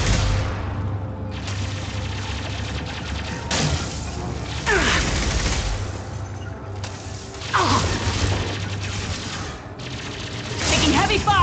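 Heavy gunfire in the video game Mass Effect 2, with dense volleys and sharp impacts bursting repeatedly amid a rumbling combat mix, and voices heard over the shooting.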